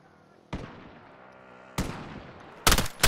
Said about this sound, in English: Sniper shooting at him.